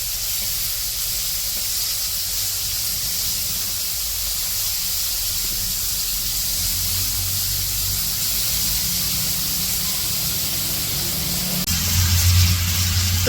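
Brinjal frying in a pan during simple village cooking gives a steady, close hiss of hot oil that holds evenly throughout, with a low rumble growing slightly louder near the end.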